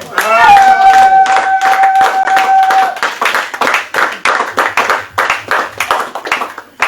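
A church congregation claps to acclaim the Lord. A sustained voice or tone comes first, then a steady, dense run of hand claps that fills the room.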